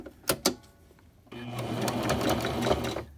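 A sewing machine stitches a half-inch seam on a Christmas stocking, running steadily for about two seconds after a couple of sharp clicks at the start, close and clear.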